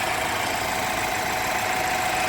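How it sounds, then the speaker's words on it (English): A 2016 BMW X3 SUV engine running close by, a loud, steady, even drone with a constant rumble and no breaks or voices. "Get a little noise from that little engine."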